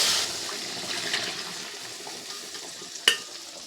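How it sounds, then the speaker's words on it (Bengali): Water goes into mutton cooking in a pan: an initial hiss that quickly subdues into a low, steady simmering sizzle, with a single sharp clink of a utensil near the end. "এই জলটা এবার আমি মটনের মধ্যে দিয়ে দেব"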